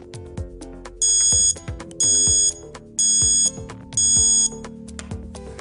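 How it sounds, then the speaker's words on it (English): A Charger Leash unplug alarm rings in four loud, evenly spaced bursts of about half a second each, shrill electronic tones sounding over a busy background of music-like tonal sounds. "It's preset to ring as soon as you unplug your device."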